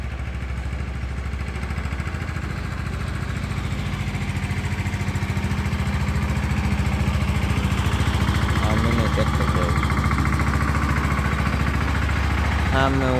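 A tractor engine runs continuously with a loud, low, steady throbbing drone that holds at the same level for the whole stretch, heard close up, with brief faint voices near the end.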